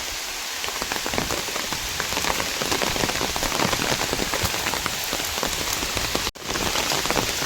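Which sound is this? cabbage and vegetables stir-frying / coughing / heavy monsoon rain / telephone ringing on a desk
heavy monsoon rain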